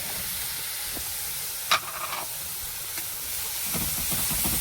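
Spice paste (masala) frying in a pan gives a steady, close hiss and sizzle with a few brief clatters of stirring, and no voices.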